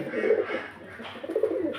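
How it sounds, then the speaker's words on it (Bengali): Soft, low cooing from pigeons at a pigeon sale in Beldanga, Murshidabad, a couple of throaty murmuring calls, fairly close and quiet. "এখানে দেখতে পাচ্ছেন কিছু পায়রা"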